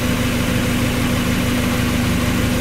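A warm Mazda Miata engine idles steadily at around 850 RPM, a continuous low, even rumble with a faint mechanical hum, heard close and alone with no talking.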